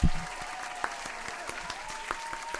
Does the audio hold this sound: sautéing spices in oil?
no